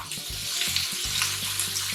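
Potatoes fry in a pan for a breakfast hash, giving a steady close sizzle with soft crackling and a few low stirring knocks, with no talk.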